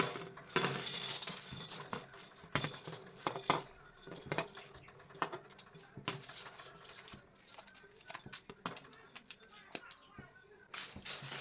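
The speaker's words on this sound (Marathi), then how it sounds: "सुरुवातीला गॅसवर कढई गरम करून घ्यायची आहे आणि सुरुवातीला आपण हे सर्व खडे मसाले घालून घ्यायचे आहेत" Whole spices tipped into a hot kadhai on a gas flame, giving light pattering clatters and scattered metallic clinks of a spoon against the pan, fairly close and in irregular bursts.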